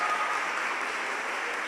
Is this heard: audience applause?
yes